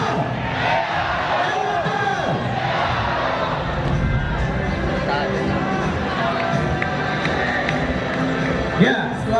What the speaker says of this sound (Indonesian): Mana nih teriakannya untuk Ewanto?